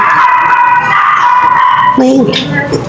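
A puppy barks and whimpers at a dump site, its yips sounding close over continuous background noise and people talking nearby.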